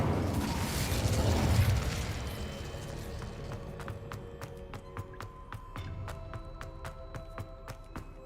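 Fire spell cast in the Hogwarts Legacy video game, a soft whooshing burst that swells then fades, followed by a sparse run of light clicks and taps.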